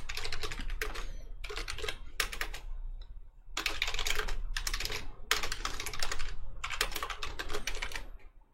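Fast bursts of clicking keystrokes on a computer keyboard, close and crisp, broken by brief pauses between typed runs.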